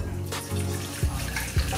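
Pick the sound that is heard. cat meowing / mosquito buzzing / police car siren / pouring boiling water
pouring boiling water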